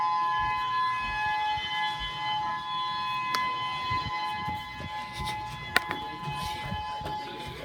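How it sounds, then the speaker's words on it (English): A civil defense warning siren sounds during a test in Hawaii as Hurricane Lane approaches, a faint, distant steady wail held under outdoor background noise, with a couple of sharp clicks. "There's actually a siren right there."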